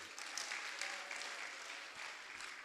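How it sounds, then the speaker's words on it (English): Applause for a Reverend Father at a government event: a faint, distant wash of many hands clapping, steady and unbroken, heard from far away. "A round of applause for the Reverend Father."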